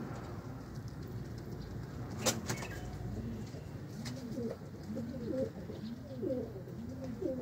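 Young Quetta pigeons coo in a repeated series of soft, rounded calls, growing more frequent over a steady hiss of background noise resembling light rain.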